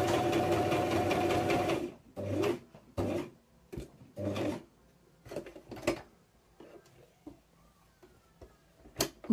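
A sewing machine runs a straight stitch forward and back, starting with a steady two-second run, then stopping and starting in short bursts. Each burst is close and clear, with no talk.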